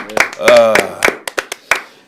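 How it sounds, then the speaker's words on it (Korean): A handful of people clap in a studio at the start of a Korean political talk broadcast as a guest is welcomed, sharp scattered claps mixed with a voice speaking over them. "박수 칩시다"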